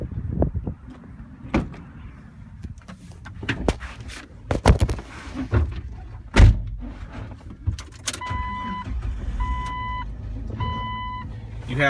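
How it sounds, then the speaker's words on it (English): A modded, lifted Jeep Wrangler LJ sets off on a test drive, with low engine rumble under cabin thumps, door and window clunks, and a repeating electronic chime near the end. "So now we'll go ahead and take this thing on a quick test drive."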